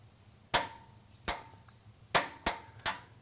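Five sharp metallic clicks from a torque wrench tightening a 17 mm bolt on Toyota Tundra suspension, close and distinct, arriving at uneven intervals over a low hum.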